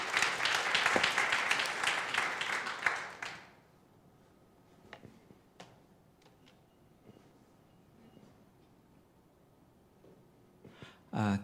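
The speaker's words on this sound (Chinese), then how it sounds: "所以我们这时候热烈拍手来欢迎周庆荣周牧师" Church prayer-meeting audience giving warm applause to welcome Pastor Zhou Qingrong, dense clapping for about three seconds that stops abruptly, followed by quiet room noise with a few scattered taps.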